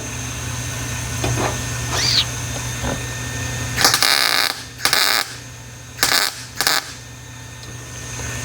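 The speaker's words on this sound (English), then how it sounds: "I'm just gonna weld in the low spots on there a little bit" Welding on the low spots of a Corvair engine mount being altered: four short, harsh crackling bursts, close and loud, come in quick succession after a stretch of quiet shop hum.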